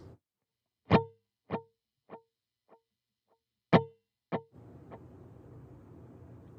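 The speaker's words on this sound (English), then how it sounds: "I just have a dotted 1/8 note delay with about 3 or 4, maybe 5 repeats" Single electric guitar notes plucked sparsely through a dotted eighth-note delay, each followed by faint echoing repeats that fade away, ending in a soft sustained strum.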